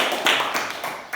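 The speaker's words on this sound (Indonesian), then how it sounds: "Oke, tepuk tangan dulu untuk si Sion." A class of schoolchildren claps briefly, a short burst of close hand claps that fades within about a second.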